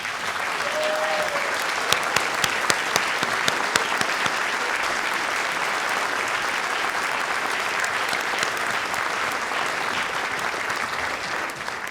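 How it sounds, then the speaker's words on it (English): Sustained applause from a seated audience at a 2019 faculty and staff convocation, honoring newly promoted tenure-track and non-tenure-track faculty as they stand; steady, dense clapping fills the hall for the full duration without letting up. "please stand so we could applaud you"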